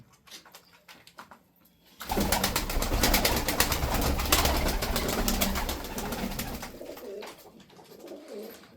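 Sarıkır roller pigeons coo steadily and close by, a low throaty burbling that starts suddenly after a quiet opening and continues throughout.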